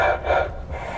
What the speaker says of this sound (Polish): Kurde, jak ty głośno oddychasz